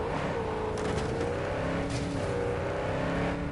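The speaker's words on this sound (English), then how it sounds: "the sound that they used for the hypercars in this game" A high, steady engine whine with wavering pitch, rising and dipping slightly as a hypercar revs in the game Cyberpunk 2077, continuous and fairly loud.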